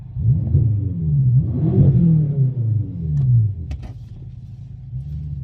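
Nearby, a BMW M6 engine with a newly installed exhaust revs up and down a few times in deep, swelling pulls, then drops back to a steady low idle.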